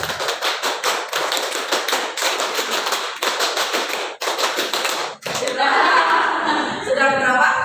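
A class claps hands together in a sharp, rhythmic run of loud, close slaps during a peer-teaching lesson. The claps stop abruptly and give way to chatter and light laughter.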